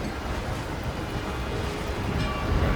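A train rolls past in the Hitman video game, a steady, dense rumble with rail clatter that holds at an even loudness throughout and swells slightly at the end, with no talk over it.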